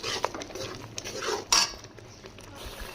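A spoon stirs and scrapes through salt, red chili and turmeric in a metal pan for chicken karahi, with repeated clinks and a sharper knock midway, close and fairly loud, with no talking.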